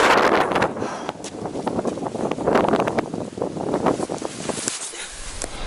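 Strong wind roars and buffets continuously outside a tent in an autumn forest, with gusts rising and falling and tent fabric flapping close by.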